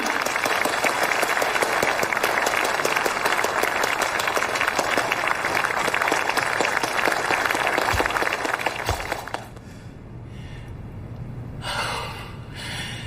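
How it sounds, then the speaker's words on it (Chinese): A crowd applauds at a Shanghai chamber of commerce gathering, sustained dense clapping that fades out, leaving a quiet room with faint shuffling. "让我们掌声欢迎"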